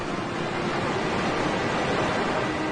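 Large waves pound a passenger ferry at sea, a steady loud roar of surging water with no distinct breaks, continuous and close.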